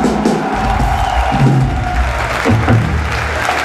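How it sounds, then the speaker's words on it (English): A concert crowd at a show at Alcatraz in Milan applauds and cheers loudly, with mixed shouts over the clapping and some low stage rumble underneath. "Everyone give Aerith a big round of applause."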